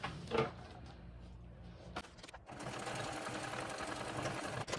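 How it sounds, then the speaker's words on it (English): A sewing machine top stitches a backpack, a steady close mechanical whir that starts after a brief pause and runs on evenly. "we're going to go ahead and top stitch"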